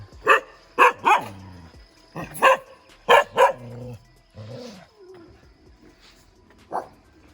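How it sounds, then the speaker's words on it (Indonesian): Dog barking fiercely at a busy mountain trail parking area: several loud, close bursts of barks in quick succession, then a lone later bark, with brief talk in between. "Galak banget anjingnya."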